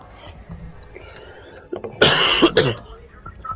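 A person coughs loudly up close, a short burst of harsh coughs after some quieter background sounds, then it tapers off.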